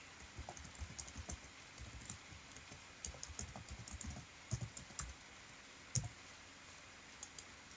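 Someone types login details on a computer keyboard in quick, irregular bursts of clicky keystrokes against a quiet room, with a few isolated taps near the end.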